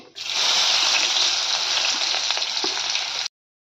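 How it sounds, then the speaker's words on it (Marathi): Onions drop into hot oil with whole spices (cardamom, cloves, black pepper), giving a loud, close, steady hiss of frying that holds for about three seconds and then cuts off abruptly. "मी खडे मसाले टाकून घेते तेलामध्ये कांदे टाकून घेते"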